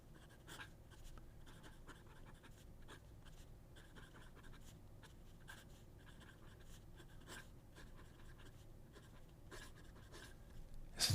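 Fountain pen with an 18k medium nib, a Delta Napoli C, scratching and gliding across paper in soft, intermittent strokes, close and quiet, with no talking.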